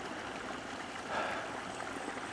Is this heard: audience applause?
no